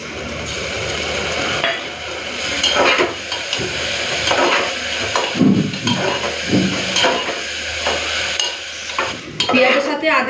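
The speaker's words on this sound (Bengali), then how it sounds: "পেঁয়াজের সাথে আদা রসুনটা ভালো করে ভেজে নিয়েছি।" Onion fries in a pan with ginger, garlic and green chilli paste, a steady loud sizzle and hiss running throughout with repeated scraping and stirring of a spatula against the pan.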